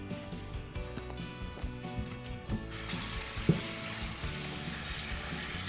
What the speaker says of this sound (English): I'm going to take my mushrooms and I'm going to put them in my strainer and I'm going to wash them